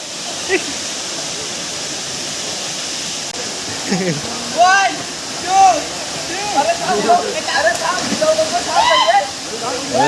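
The Gaonkhadi waterfall roars with a steady, loud rush of falling water through the whole stretch, while people talk and call out over it in the second half.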